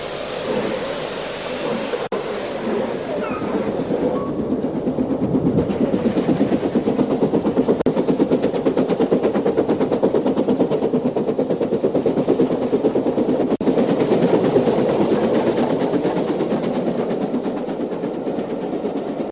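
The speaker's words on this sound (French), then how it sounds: "241P vient se mettre en tête, le train 45 quitte la gare" A French 241P steam locomotive heads train 45 out of the station, a loud, continuous rumble and rhythmic rolling of wheels and cars passing close by, with no voices over it.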